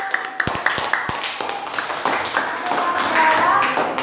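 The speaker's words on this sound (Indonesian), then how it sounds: "Tepuk tangan buat kelompok." Students in a social studies classroom clap for a presenting group, beginning with a few sharp, separate claps and building into looser clapping, while voices talk over it.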